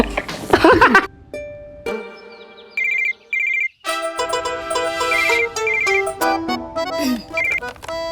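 Mobile phone ringing with an incoming call, a repeating electronic melodic ringtone playing loudly in short bursts after a brief voice at the start.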